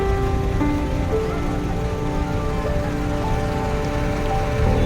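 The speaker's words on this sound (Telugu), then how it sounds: "వర్షం గత 3 రోజుల నుంచి అది గ్యాప్ ఇవ్వకుండా కొడుతున్నది." Heavy rain at Kaleshwaram pours in a dense, even wash of noise that holds steady and loud throughout, with no voices over it.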